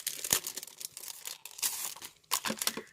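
Plastic packaging around an embossing folder being opened, with crisp crinkling and tearing in several short bursts, close and fairly quiet, with no talking.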